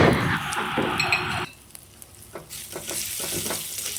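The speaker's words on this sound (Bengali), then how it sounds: "এবার আমি মশলাগুলোকে খুব ভালোভাবে ভেজে নেব" Grated potatoes and spices stir-fry in a pan. A loud sizzle with stirring cuts off abruptly, followed by a quieter stretch of light scraping and clinks, and then the frying hiss returns.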